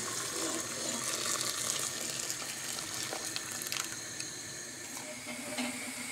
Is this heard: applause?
no